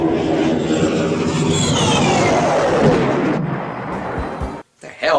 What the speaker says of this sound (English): I don't think that's what happens when a plane crashes into you.